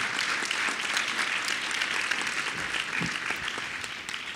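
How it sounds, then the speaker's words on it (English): Audience at an IMF panel discussion on Caribbean resilience and sustainability applauds steadily, a dense, even roar of many clapping hands lasting throughout. "Please give Kristalina a round of applause"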